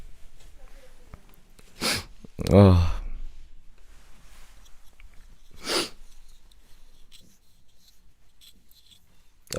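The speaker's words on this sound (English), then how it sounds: "I don't know if it's just me sneezing." A person sneezes once sharply at close range, preceded by a brief breathy intake and followed later by another short breath or sniff, amid faint background noise and a quiet spoken murmur.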